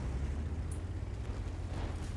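A tank's main gun firing a shell in an online tank battle game, heard as a steady low rumbling blast with engine drone underneath that fills the whole moment without a sharp separate crack.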